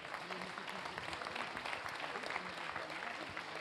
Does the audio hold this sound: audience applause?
yes